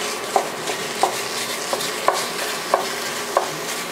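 Chopped meat and pork are stirred and broken up in a sizzling pan, with a steady fry hiss under five or six sharp scraping knocks of the utensil against the pan at a regular pace.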